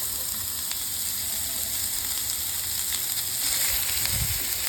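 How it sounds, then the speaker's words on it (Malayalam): Chopped snake gourd fries with chillies in a pan, giving a steady close sizzle with faint stirring scrapes and a soft thud near the end, no voices. "മുളക് നന്നായി മൂത്ത് വന്നാൽ അരിഞ്ഞു വച്ചിരിക്കുന്ന പടവലങ്ങ ചേർത്ത് നന്നായിട്ട് ഇളക്കി കൊടുക്കാം."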